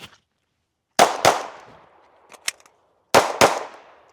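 Handgun fired at two targets, four loud sharp shots in two quick pairs, each with a short decaying echo, separated by a pause with a brief metallic clatter between them.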